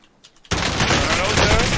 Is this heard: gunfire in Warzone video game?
yes